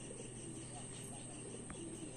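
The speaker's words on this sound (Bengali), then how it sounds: "দেখতেই পাচ্ছ কত পায়রা এখানে" Cooing from a flock of fancy and Giribaz pigeons gathered around a rooftop loft, soft and fairly faint beneath a constant hiss of background noise, with a voice talking.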